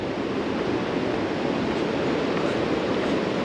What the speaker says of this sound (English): Wow, that's some big waves.